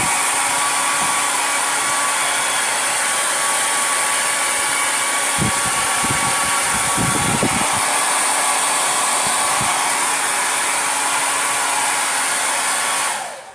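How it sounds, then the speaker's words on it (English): A hair dryer blows on a poured acrylic painting, a loud, steady whine and rush of air, briefly sputtering midway before shutting off at the very end. "And normally I wouldn't do a hair dryer this much"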